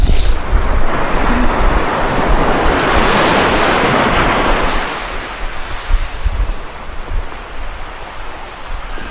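Strong wind buffeting on a beach during sea fishing at Tunstall on the UK east coast, loud continuous roaring gusts and microphone rumble over crashing surf, no voices.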